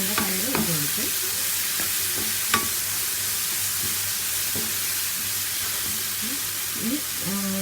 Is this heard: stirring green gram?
yes